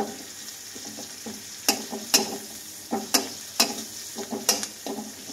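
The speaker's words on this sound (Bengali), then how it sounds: "তো পেঁয়াজটা লাল লাল করে ভাজবো।" Onions frying in a pan for a pomfret fish curry, a steady sizzle broken by sharp scraping stirs that repeat every second or so, close and fairly loud, with no talking.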